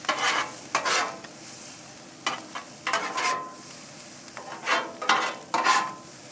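Breakfast potatoes being stirred and tossed together on a Blackstone 22-inch XL griddle, bursts of spatula scraping over a constant frying sizzle, close and fairly loud, with no talk.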